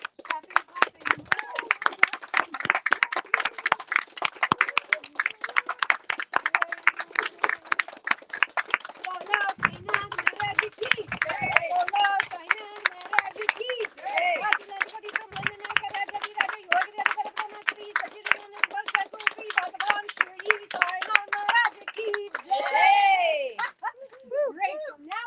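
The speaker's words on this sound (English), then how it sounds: "Keep clapping. Keep clapping." Audience clapping in rhythm during a full moon fire homa ceremony, sharp steady claps carrying on for a long stretch while a leader talks over them and people chatter.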